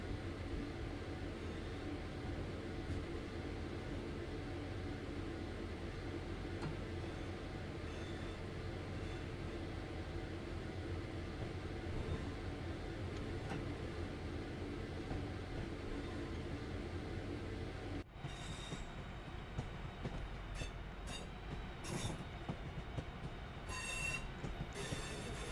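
A train in Train Sim World 3 on the Birmingham Cross City line accelerates with a continuous rumbling rail roar and wheel noise, then a burst of clattering and squealing wheel sounds in the final seconds.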